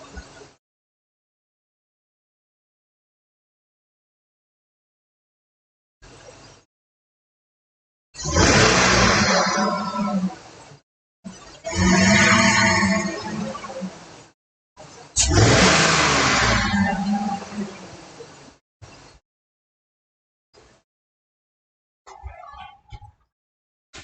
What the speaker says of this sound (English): I'm going to go ahead and spike the throttle a couple times, see what it does